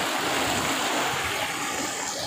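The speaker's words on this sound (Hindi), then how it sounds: "ये नदी में पानी आया हुआ है" Flooded river in Malir rushing past, a broad, steady roar of churning water that stays loud and constant without a break.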